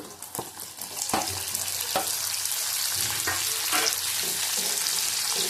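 Half a capsicum frying in a pan of spiced oil for aloo dum: a loud, continuous sizzle with regular utensil knocks and scrapes throughout, with no voices.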